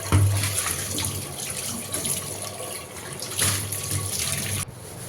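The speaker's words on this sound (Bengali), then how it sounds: "থালাবাটি ধোয়া যে জিনিসগুলো ওগুলো এখন ধুয়ে নিচ্ছি" Dishes being washed under a running tap in a home kitchen after cooking: a steady, close rush of water pours without pause, with small surges and a brief cutoff near the end.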